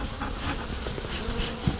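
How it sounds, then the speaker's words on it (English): Honey bees in an open beehive fan to ventilate it, a dense close buzzing drone that holds steady throughout. "See how they have their butts in there and they were ventilating the hive"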